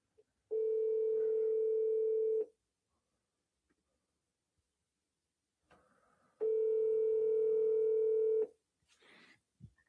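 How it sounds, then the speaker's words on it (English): A telephone being dialed while cold calling: two long, steady dial-tone stretches of about two seconds each separated by silence, followed by a few short key-press beeps at the end, with no voices. "I'm going to double dial."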